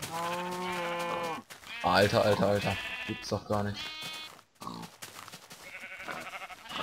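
Repeated sheep bleats from a crowded pen of Minecraft sheep, wavering and harmonic, close and overlapping, with someone talking in German over them.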